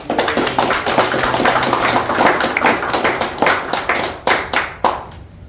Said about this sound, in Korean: 박수 한번 쳐드리세요